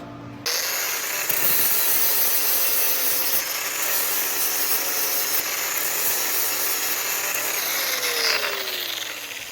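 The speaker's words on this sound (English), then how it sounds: "Now I'm gonna sand it off." Power sander grinding down a weld on the steel body of a Toyota FJ40, a steady loud abrasive whine held for about nine seconds without a break, with no voices.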